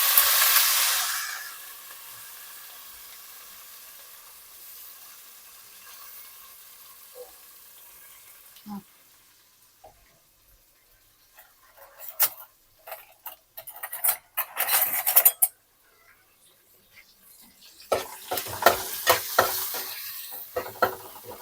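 Onions frying in a pan during preparation of a fish curry, with a steady sizzle that fades and then returns alongside bursts of stirring and scraping clatter; no one talks.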